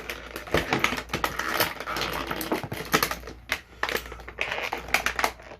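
NECA Teenage Mutant Ninja Turtles Tokka and Rahzar action figure parts being slid out of plastic blister packaging, with close, irregular plastic crinkles, clicks and scrapes coming in quick bursts.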